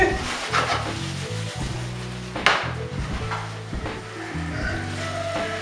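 Ackee and corned pork stirred in a pan with a spatula, giving steady scraping and a soft frying sizzle, with one sharp clack near the middle and a low melodic backing underneath.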